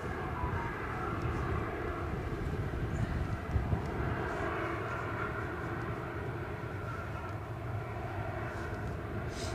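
EasyJet Airbus A320 departing Edinburgh Airport in strong winds, a sustained distant engine roar with a steady rumble and faint whine, fairly quiet and largely free of talk.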